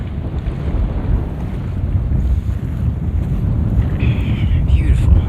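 Wind gusting across a lake below Selden Pass on a mountain trail, a steady loud roar buffeting the microphone throughout with no break.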